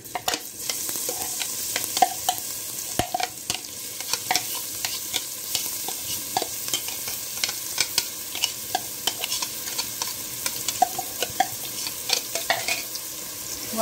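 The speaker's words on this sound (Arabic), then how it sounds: "اقلب كده واشوح البصله" Minced onions stirred and sautéed in hot ghee for Upper Egyptian kishk, a continuous close sizzle broken by frequent scraping spoon strokes against the pan, with no talking.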